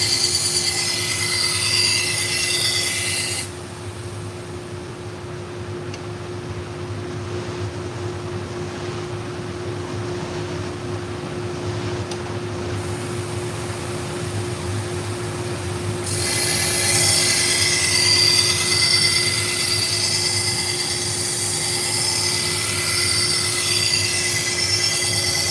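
A worn knife blade is sharpened at a 20-degree angle on a sharpener, producing a loud, continuous, high-pitched grinding hiss that eases for a stretch and then swells again, with no talking.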